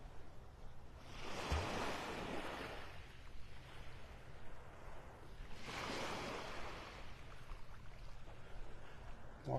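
Ocean waves on a beach in North Naples, Florida: two slow swells of surf rise and wash back over a constant breezy hiss, with wind buffeting the microphone and no speech.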